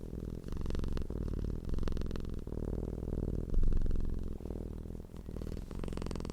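A cat named Maisie purrs steadily up close, a deep continuous humming with rhythmic pulses that swell and ease with each breath, alone without any talking.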